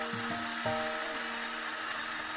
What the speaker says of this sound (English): this is a DeWalt chainsaw